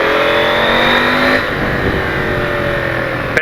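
Close, loud engine roar from a KTM 890 Adventure motorcycle fitted with an AliExpress exhaust pipe as it revs while riding, the pitch climbing and then easing off partway through, with no voices.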